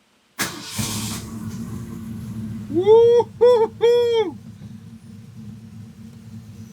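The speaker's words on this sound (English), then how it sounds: "A quick startup of this muscle beauty" A 1966 muscle car fires up with a sharp cranking burst that catches into a steady, rumbling idle, close and loud; over the idle a man lets out three whooping cheers before the engine settles on alone.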